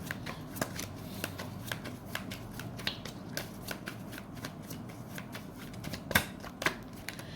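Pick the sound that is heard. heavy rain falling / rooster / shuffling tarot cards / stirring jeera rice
shuffling tarot cards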